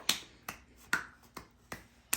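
A small child claps his hands at home, six sharp, separate claps at a slow, uneven pace, close and fairly quiet with near silence between them.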